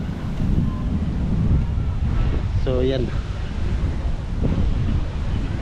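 Steady wind rushes and buffets the microphone outdoors at East Coast Park, while someone speaks briefly in Filipino over the blustery noise.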